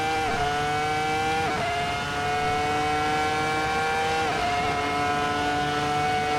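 A Ferrari F2004 V10 screams at high RPM in a racing simulator. The tone is steady, piercing and whining, with a few brief dips during gear shifts, and it stays loud and continuous throughout.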